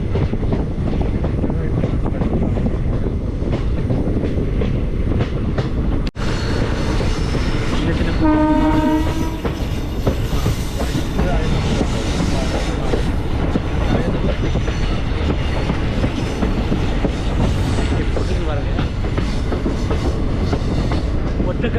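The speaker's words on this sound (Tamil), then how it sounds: "நல்லா மலை உச்சியில் ட்ரெயின் போயிட்டுருக்கு" A train rolls steadily through hill country with a loud continuous rumble and rattle of wheels on track, and a brief horn sounds partway through.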